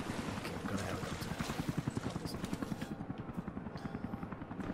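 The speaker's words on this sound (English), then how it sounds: "Sooner or later, I'm gonna have to take this helicopter down." Helicopter in Rise of the Tomb Raider, a steady loud rotor chop with rapid regular blade thumps under a broad whooshing engine wash, continuous throughout.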